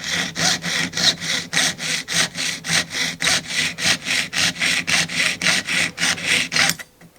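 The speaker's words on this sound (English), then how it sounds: "usually you want 2 to 3 teeth engaged with the metal while you're sawing" A hand saw cuts through metal while a ring mandrel is being made, in quick, even back-and-forth strokes, about twenty of them. The rasping is close and loud, then stops abruptly near the end.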